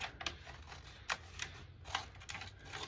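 Scissors snip through leather while cutting out a knife sheath pattern, a series of short crisp clicks and slicing sounds at an uneven pace, close up with faint background hum.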